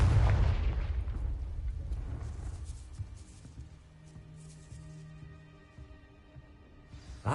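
A Confringo spell explodes in Hogwarts Legacy with a heavy, close boom at the start, then a long rumbling decay and a faint lingering tone.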